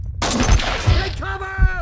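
Gunfire in Max Payne 2: The Fall of Max Payne, broadband shots with heavy low thumps, three strong booms spaced about every half second under a dense crackling, with in-game voices shouting over part of it.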